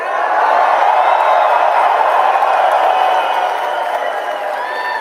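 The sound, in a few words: rally crowd cheering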